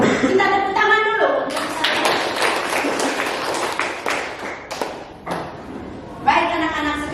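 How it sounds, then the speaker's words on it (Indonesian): Students clapping together in a classroom, a burst of uneven claps and thumps lasting several seconds, with a teacher's voice heard before and after. "Kita tepuk tangan dulu."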